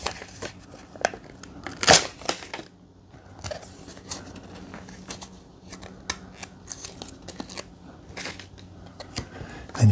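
Backing film being peeled off the sticky glue pad of a VEYOFLY indoor fly trap, heard as close crinkling, tearing crackles with one sharp rip near the start and scattered smaller crackles throughout.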